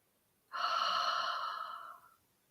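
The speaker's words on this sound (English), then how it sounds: "filling up your lungs deeply, holding your breath and releasing it slowly" A single slow breath released after being held during a guided meditation, a soft airy exhale swelling quickly then tapering off over about a second and a half, close and quiet with no talk.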